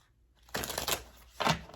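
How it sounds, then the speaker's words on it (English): A deck of tarot cards is shuffled close up in two quick riffling bursts separated by a short pause, with no talking during the shuffles. "this deck just wants me to keep shuffling it"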